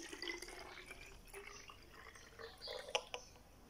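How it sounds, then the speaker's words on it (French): Coconut water pours into a small empty bottle, a faint trickle with soft splashing and a few brief drips, heard alone. "Vous allez verser votre eau de coco à l'intérieur, comme ça."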